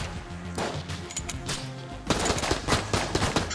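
Rapid gunfire and bullets rattle in the video game Enter the Gungeon, with bursts of sharp shots over a steady game music bed that grow louder and denser in the second half.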